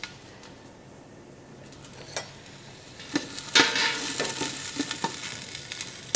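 Garlic sizzles in a pan, starting as a quiet hiss and then bursting into louder, busier crackling about halfway through, with light stirring clicks and no voices.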